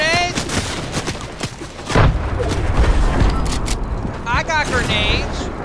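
Grenade explosions in the Fortnite video game land as heavy booming blasts, several in a few seconds, mixed with gunfire and a player talking excitedly over the action.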